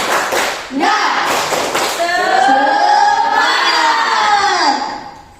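A group at a training session doing the rhythmic 'tepuk semangat' clapping chant as an ice breaker: a few sharp claps, then loud unison shouting voices that hold for several seconds before dropping off.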